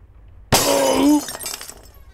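A glass window shattering in the horror video game Nun Massacre, a sudden loud crash with bright ringing glass that fades over about a second, with a few fragments tinkling afterward, alone.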